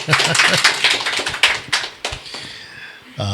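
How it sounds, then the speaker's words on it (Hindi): Scattered hand clapping from a small group of Bible college students at a testimony gathering, a handful of sharp claps fading out, with a voice briefly at the end. "ताली बजाओ"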